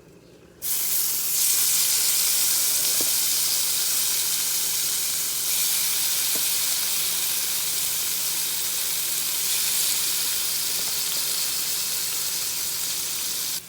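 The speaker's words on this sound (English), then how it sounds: "Now I'm gonna add in those onions from our marinade." Marinated onions dropped into hot frying oil for chicken fried steak gravy, bursting into a loud, steady sizzle that holds evenly throughout with no talking.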